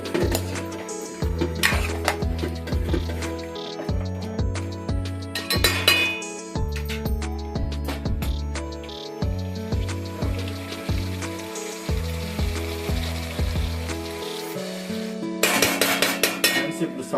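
A spoon stirs ginger garlic paste in a pot for Telangana-style mutton curry, giving close, steady scraping and clinking against the metal in repeated bursts, with a faint sizzle underneath and no talking.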